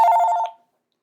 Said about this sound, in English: So that's the phone.